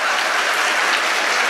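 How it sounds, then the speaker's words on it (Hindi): Loud, dense applause from a crowd at a nazm poetry recitation in Ghazipur, an even, sustained roar of many hands clapping with no talk over it. "आप अपने लिए एक बार जोरदार ताली बजाएं"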